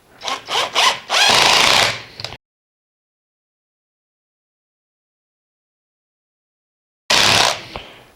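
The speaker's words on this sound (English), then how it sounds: "So I'm going to use my impact driver." An impact driver sinks screws into a faceplate on a wet, natural-edge wood blank for a hollow form turning, producing loud, rattling bursts: a run of short hits, a longer drive, silence, then one more burst.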